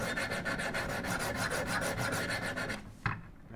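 Sharpening stones scrub back and forth on a knife blade clamped in a Wicked Edge Gen 3 Pro, a quick rhythmic rasp of repeated strokes that stops near the end, followed by a single soft knock.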